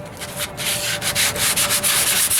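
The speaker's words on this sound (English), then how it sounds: "now I'm block sanding using a 150 grit" Steady rhythmic sanding, a block rubbed back and forth with 150 grit sandpaper over primer on a 1998 Ford Ranger wheel arch in repeated close strokes, loud and continuous with no talking.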